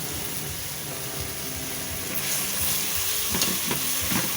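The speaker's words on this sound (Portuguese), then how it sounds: "E agora eu vou adicionar um coração de banana." Banana heart dropped into caramelizing sugar syrup on the stove, giving a steady bubbling sizzle with a few sharper crackles and stirring clicks toward the end.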